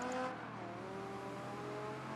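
Project Gotham Racing 3 race car, a Ferrari F40 among the field, with its engine droning at high revs and then dropping pitch on a gear change, a continuous loud motor tone with no talking.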